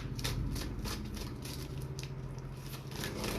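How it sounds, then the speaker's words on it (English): A deck of oracle cards being shuffled by hand at close range, a steady crackling riffle of card edges rubbing and flicking together for several seconds with no pauses. "You know I'm going to be sitting here shuffling for at least a couple of minutes."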